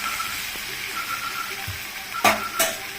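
Sliced okra fries in a pan with a steady soft sizzle, and a spatula stirs it with a couple of sharp scraping clacks near the end.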